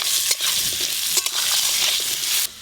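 Raw mango pieces fry in mustard oil with five-spice seeds, giving a loud, dense, hissing sizzle throughout, broken by a few short stirring scrapes, close and with no voices.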